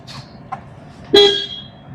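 A single short car horn honk sounds nearby, loud and clear, with faint road noise before it.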